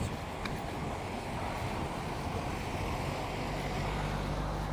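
Strong wind blows outdoors across the Vendée marshes, a steady, loud rushing roar buffeting the microphone throughout with no voices.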